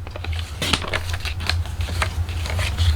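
A paper trimmer arm slices through a sheet of paper, giving a series of crisp clicks and scraping strokes over a steady low hum.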